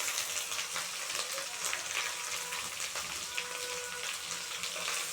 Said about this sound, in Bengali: রসুনটা লাল হয়ে এসছে, এবার আমি পেঁয়াজ কুচিগুলো দিয়ে দেবো।